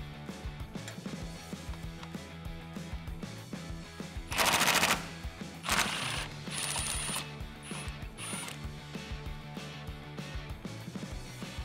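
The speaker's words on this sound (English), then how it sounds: "grab your 10 millimeter with an extension this time, and we're gonna get the 4 10 millimeter bolts at the bottom of our grill" A 10 mm socket on an extension loosens the grille bolts at the bottom of a 2014-2015 Chevrolet Silverado 1500, with steady fast ratcheting clicks throughout and a few louder, harsher bursts of ratcheting in the middle.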